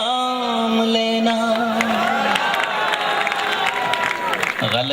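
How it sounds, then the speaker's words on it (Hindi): Audience clapping and cheering at a poetry recital swells under a sustained singing or chanting voice, crowd noise continuing throughout. "गलत जगह तालियां बजा दी आपने।"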